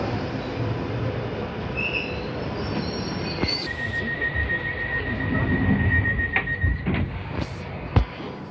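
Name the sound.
train running on rails, wheels squealing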